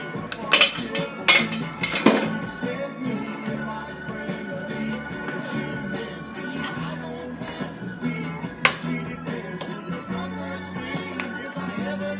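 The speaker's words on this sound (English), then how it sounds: "going to put the lid on" A lid goes onto a cooking pot on a stove, braising lamb shank with mushrooms and potatoes. Several sharp metallic clanks and clinks come early, another lands later, and quieter kitchen rattles fill the gaps.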